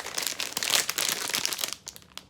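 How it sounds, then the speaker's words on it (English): A bag of horsemeat chips is cut open with scissors, giving a close, busy crinkling and rustling of the packaging for a couple of seconds before it quiets down. "we're gonna crack this bag open anyway and see how it fares"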